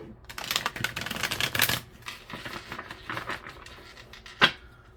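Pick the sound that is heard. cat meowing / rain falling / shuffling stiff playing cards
shuffling stiff playing cards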